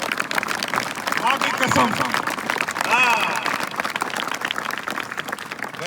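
Audience at a motivational talk clapping in a brisk, uneven burst beneath a man's loud speech, the clapping rising and falling in short waves.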